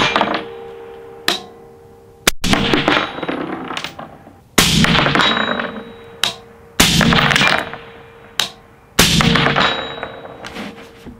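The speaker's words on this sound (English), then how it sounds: "I'll go ahead and show you right now, just shooting the 16-inch indoors" Suppressed gunshots from a Gemtech ONE suppressor on a 16-inch barrel, fired indoors: five or six loud, sharp reports at irregular intervals, each ringing and decaying with metallic clanks between shots.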